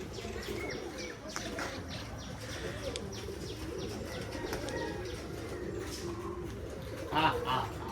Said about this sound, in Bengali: ভাই কবুতরগুলো খাইতে দিচ্ছে এখন